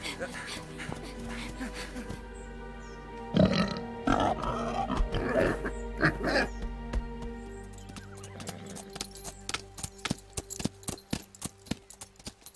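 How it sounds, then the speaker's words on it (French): Animated medieval boar hunt with snorting, grunting animal sounds mixed with horse hooves and whinnies, voices calling out over a busy stretch, then a steady run of sharp clip-clopping hoofbeats toward the end. "la chasse au sanglier n'est pas un exercice facile"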